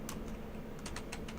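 Quick, irregular clicking of keys on a computer keyboard, close and fairly quiet, typed in short bursts with no one talking.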